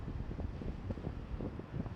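Steady wind buffets the microphone on the coast near Pointe de Barfleur in Normandy, a continuous low rumbling roar with gusty pulses and no voices.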